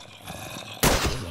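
A single sharp sniper shot in modded Minecraft cracks out loudly after a quieter stretch of game ambience, then decays into a rumbling tail.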